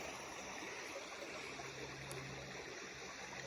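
Low water of a small stream running over rocks in off-grid Maine, a soft continuous trickle and wash, faint and steady with no other sounds.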